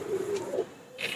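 A soft, low coo from a Rampuri golden pigeon, brief and close, followed by a faint higher chirp.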